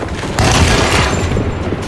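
Gunfire in the video game Alone in the Dark (2024) gives a loud, dense burst of booming shots with a rumbling tail, mixed with game ambience and no clear talk.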